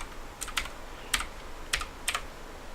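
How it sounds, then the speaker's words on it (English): Keys on a Skorpion K2 RGB mechanical gaming keyboard are pressed in a few crisp, close clicks, four or five separate taps over a quiet hiss, with no voice. "So now every time I click a key,"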